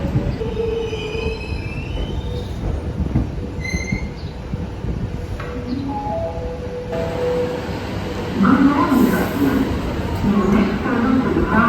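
A suburban Melbourne train heading to Glen Waverley, heard on board: a steady rumble of the carriage with high squealing wheels and occasional clatter, growing louder and rougher partway through, with muffled voices in the background.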